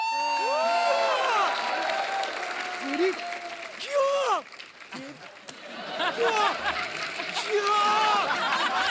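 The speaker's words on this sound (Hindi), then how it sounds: "सेलिब्रेशन, जोरदार तालियां।" Studio audience on a Hindi TV comedy show, The Kapil Sharma Show, cheers and whoops loudly, with a crowd roaring steadily throughout and applause mixed in.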